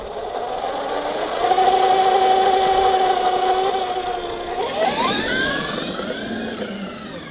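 Traxxas X-Maxx RC car motor being run on a test after upgrades: a close, steady electric whine holding a constant pitch, then rising sharply in pitch as the motor revs up near the end.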